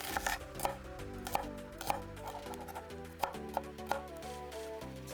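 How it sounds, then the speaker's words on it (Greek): A knife chops onion and garlic steadily on a cutting board, sharp regular taps close by, while quiet background music plays underneath. "Ψιλοκόβεις ένα κρεμμύδι και σκόρδο."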